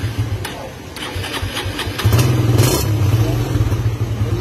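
A motorcycle, a scooter such as a Raider or Mio Sporty, starting up close by, with a few clicks and a short cranking burst before the engine catches and settles into a loud, steady idle.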